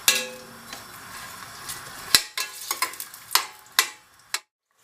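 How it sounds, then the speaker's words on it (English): Onions sizzle in hot oil inside a pressure cooker, a faint steady hiss broken by sharp metallic clicks and scrapes of stirring that stop abruptly near the end. "So in the pressure cooker I've heated up some oil. I want to add in some onions."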